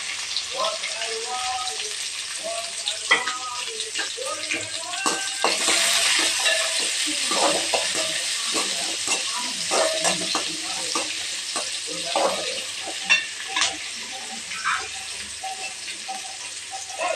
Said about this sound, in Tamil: வெங்காயத்தை போட்டுக்கலாம் வெங்காயம் ஒரு ரெண்டு பெரிய வெங்காயம்